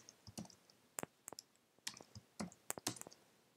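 Sparse keystrokes on a computer keyboard, a dozen or so light, crisp clicks in an uneven rhythm, close and fairly quiet against a hushed room.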